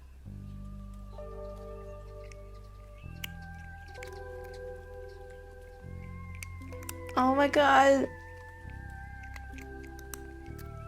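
A cat crunching as it eats, heard as a short burst of dense crackly chewing near the end, over steady tonal music with a voice speaking briefly.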